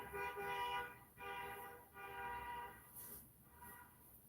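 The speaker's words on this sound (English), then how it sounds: "There's a lot more honking in this neighborhood" Horns honk in a city neighborhood, several long sustained blasts one after another, heard from a distance through a window.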